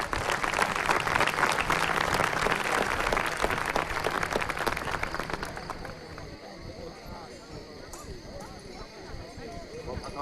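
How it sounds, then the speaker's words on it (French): Audience applause in a formal hall setting, a dense burst of clapping with voices mixed in that swells loudly and then drops off after a few seconds, leaving faint murmuring and room noise. "Sous vos applaudissements, s'il vous plaît."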